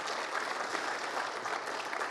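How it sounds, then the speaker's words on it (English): Audience applause for two presenters at a Springfield, Missouri community business event, steady dense clapping filling the room from start to finish with no voices over it. "we want to give another round of applause to both our presenters, Buffy from City of Springfield and Brian"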